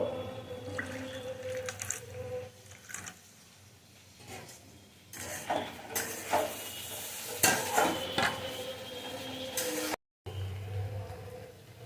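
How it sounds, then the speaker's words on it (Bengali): Okra and potatoes being stirred in a pan: scraping and clinking of a utensil against the pan with light sizzling, close and uneven, with a short break near the end. "ভেন্ডি আর আলুগুলো আমি নাড়াচাড়া করে নেব"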